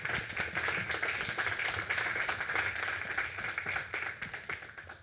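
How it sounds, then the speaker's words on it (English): Sustained audience applause closing a food systems sustainability session, dense and steady clapping from a sizable crowd that tapers slightly near the end. "let's give a big round of applause"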